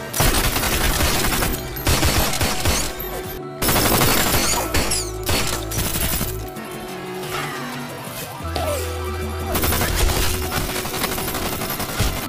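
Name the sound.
machine gun fire in the film Lucky Day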